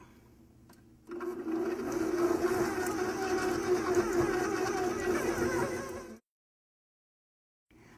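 An electric mixer whirs steadily for about five seconds through chocolate malted cookie batter, a loud continuous motor hum that starts abruptly and cuts off into silence.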